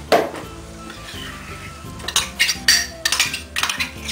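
A flour roux with tomato concentrate being stirred in a pan for a langoustine sauce, with a utensil scraping and clinking against the pan in repeated bursts over a light sizzle.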